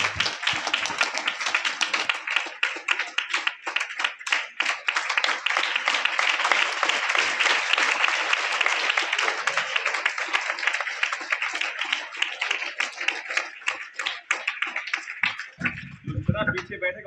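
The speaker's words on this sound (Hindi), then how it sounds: "जोरदार तालियों से इनका स्वागत करें।" Sustained applause from a school seminar audience welcoming a speaker, dense clapping filling the room for about fifteen seconds before tapering off, with a voice beginning to speak at the end.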